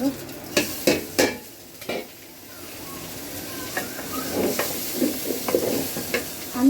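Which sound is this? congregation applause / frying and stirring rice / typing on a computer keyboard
frying and stirring rice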